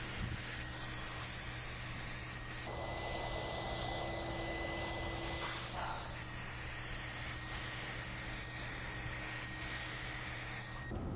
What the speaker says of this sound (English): Here I'm laying down a coat of bin white pigmented shellac.